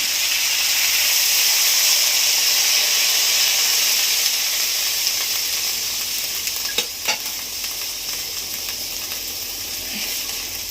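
Water hits Malabar spinach (pui) chachchari curry in a hot pan, raising a loud, steady hiss of sizzling steam with a few brief clinks of stirring partway through.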